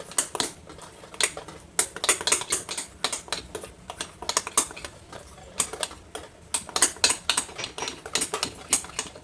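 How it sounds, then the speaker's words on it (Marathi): Soaked lentil batter for vadas is beaten by hand in a bowl, making quick, rhythmic wet slapping strokes in repeated bursts, close and fairly quiet, with no talking. "परत हे हलवून घ्यायचं अशा प्रकारे फेटून घ्यायचं"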